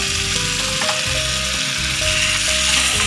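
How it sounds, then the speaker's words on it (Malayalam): Ground tomato paste hitting hot oil for a Hyderabadi chicken fry, with ginger-garlic and chilli powder already in the pan, sets off a loud, steady sizzle and crackle that holds for about three seconds with no talking. "ഇതിലേക്ക് തക്കാളി അരച്ചത് ചേർത്ത് കൊടുക്കാം."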